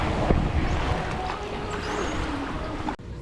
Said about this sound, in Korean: 다시 스피드보트에 올라 다음 장소로 이동합니다.